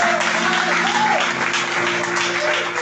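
A church congregation applauds during a worship service, dense continuous clapping filling the room with a faint voice or music tone running underneath.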